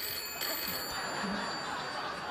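A telephone rings as a fake-phone gag on a late-night comedy show stage: a brief ringing tone over a steady studio ambience.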